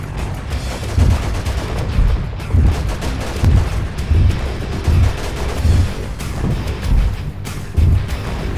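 Naval guns firing from a warship in a video game battle at Pyrgos Gulf, with heavy, loud booms repeating at a steady rhythm roughly every second over a constant rumble.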